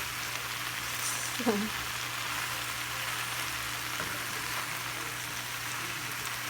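Salmon fillet seasoned with black pepper cooks slowly in a pan, giving a steady, soft, continuous sizzle under a low hum, with a brief faint clink near the middle.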